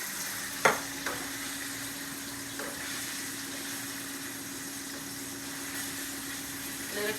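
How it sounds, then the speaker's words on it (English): Minced garlic fries in a pan with a steady, low sizzle, broken by a sharp clack near the start and a few soft knocks of a utensil. "Let it cook a little bit, not too long because garlic cooks really fast and you don't want it burnt."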